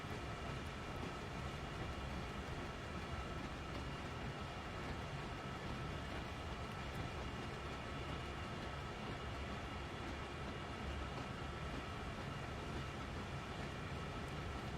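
Coal pouring into a freight train's hopper cars as they creep through a loading station at Horseshoe Curve in Train Sim World 2, a steady broadband rumble and hiss with a low rail drone holding level throughout, no voices.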